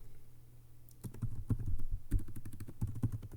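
Fast, uneven clatter of keys on a computer keyboard, starting after a quiet second and continuing close and clear in quick bursts.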